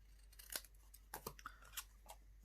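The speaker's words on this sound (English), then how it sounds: "grab your scissors" Scissors snip through paper in a crafting setting during a paper-punch project, a few quick crisp cuts spaced irregularly, close and fairly quiet with no talking.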